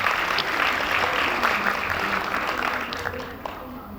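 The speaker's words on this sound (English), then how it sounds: "Can we give them a big round of applause?" Conference audience at a remote-work event applauds steadily in a big room, with some cheering and voices mixed into the crowd's clapping, which tapers slightly near the end.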